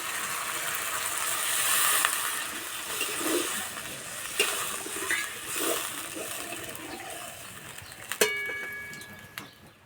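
Water poured onto fried spice paste in a pan for a vegetarian cauliflower kofta curry makes a rushing, gurgling swell, then settles into a softer bubbling hiss with a couple of sharp metallic clinks.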